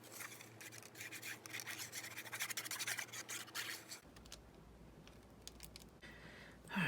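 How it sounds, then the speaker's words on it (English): Paper card being glued down and rubbed flat by hand onto a junk journal file folder page, a steady close scratchy rubbing and rasping for several seconds with a brief louder brush at the end. "I'm just gonna get it glued down."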